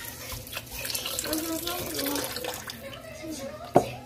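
Chicken broth pouring from a carton into a cooking pot, a steady splashing liquid stream running continuously at close range, with a sharp clunk near the end and a voice talking faintly over it.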